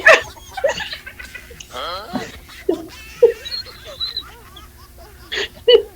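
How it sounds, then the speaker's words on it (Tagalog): A dog barks and yips in short, sharp bursts, some close and loud, others softer and whimpering, scattered between people talking and laughing. "Nagalit yung aso mo"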